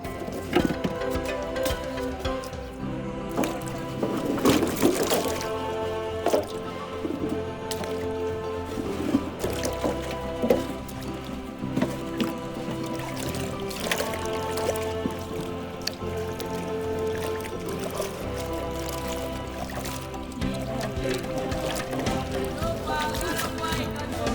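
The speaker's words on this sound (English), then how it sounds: "we wash it to take off all the dirt before you grate or grind or blend it" Peeled cassava being washed in water for gari, with continuous splashing, dripping and sloshing of roots rubbed by hand, layered over busy background sound.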